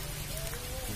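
Rain falling steadily on a surface, a dense continuous patter heard faintly in the background with a low hum beneath it.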